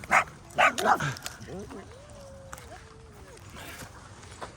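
Several sharp dog barks up close at the start, then a long whining whimper trailing off over quiet background noise.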